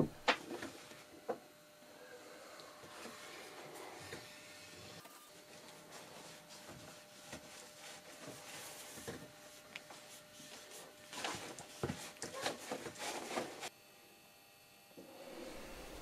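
Lapping a flat metal surface with fine abrasive on a lapping bar, a continuous gritty scraping and rubbing with shifting strokes, steady and close, sometimes rising in intensity, with no talk.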